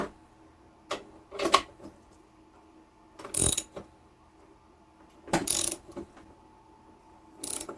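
Short bursts of mechanical ratcheting from a hand crank ratchet puller, a few separate cranking spells with pauses between them, fairly quiet and close.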